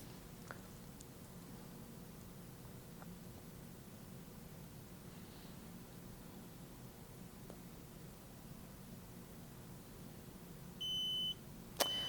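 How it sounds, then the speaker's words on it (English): A short electronic alarm beep from a medication cart's open-drawer alarm sounds near the end, a steady high tone for about half a second, after a long stretch of quiet room hiss. "you get an audible alarm when you've left the drawer open"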